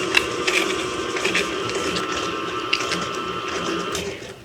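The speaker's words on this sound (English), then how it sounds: "Gonna cream these together, then we're gonna add 2 eggs," A stand mixer with a paddle creams soft butter and sugar, giving a steady mechanical whir with a constant motor tone and light rhythmic knocking, heard alone without speech.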